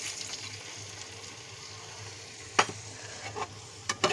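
A paste of turmeric, green chilli, salt and sugar goes into a pan for hing bori. Under a faint frying hiss, a few soft splashing and scraping sounds come in brief bursts near the end.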